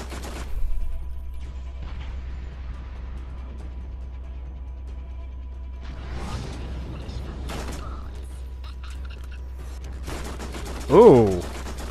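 Gunfire in the video game Borderlands, a few scattered shots under low background hum, with one louder burst near the end alongside mechanical clatter.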